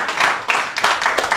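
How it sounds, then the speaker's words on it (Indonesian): A church congregation claps and cheers for God during a sermon. The applause is brief and bright, with the crowd swelling in several quick surges. "Berikan sorak-sorai buat Tuhan."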